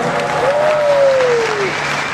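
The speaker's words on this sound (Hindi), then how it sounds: "तालियां हो जाएंगे" Audience applause at a business program event in New Delhi, a continuous, fairly loud patter of many hands with a brief sustained tone rising and falling over it.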